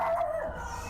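A dog howls from a hallway, one short, whining cry that slides downward in pitch and trails off, fairly close and alone.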